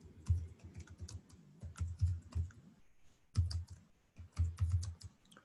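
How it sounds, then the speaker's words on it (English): Quiet, close clicking of keys on a computer keyboard in bursts of rapid keystrokes separated by short pauses, with no talking. "I'm just typing this into the notes"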